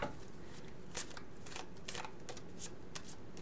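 Tarot cards are handled and drawn during a reading, giving soft repeated shuffling and flicking bursts at an uneven rhythm over a quiet, steady room background, with no talking.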